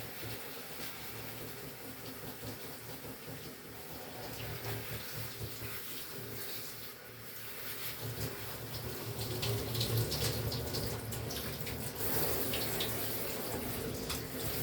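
Bath water runs from a tap with weak pressure, a continuous, fairly quiet splashing trickle into the tub that keeps going steadily and swells slightly midway.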